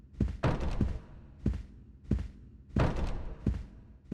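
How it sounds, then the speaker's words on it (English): Heavy banging on a front door in the PS1 horror game Echo Night 2: a series of loud, hollow thuds in irregular clusters with short gaps between them, heard alone without speech. "you hear banging at the front door"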